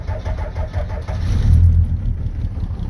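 Cold diesel truck engine, not yet warmed up and running on processed waste oil, cranking and catching, then firing up into a loud, rough, close idle with a brief surge of throttle.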